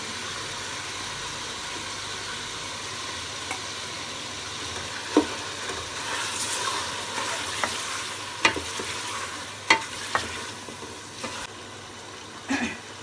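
Ginger-garlic paste sizzles in a pan with browned onions and a little water for chicken dum biryani, a soft continuous frying hiss broken by occasional sharp spoon clacks from stirring, with no voices.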